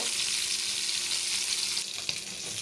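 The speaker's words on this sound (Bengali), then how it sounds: "প্রথমে আমি ফাইসা মাছটা হালকা হলুদ আর লবণ দিয়ে তেলে ভেজে নিচ্ছি" Steady, loud sizzle of faisa fish frying in hot oil with turmeric and salt, a dense continuous crackle with a brief dip and a sharper pop near the end.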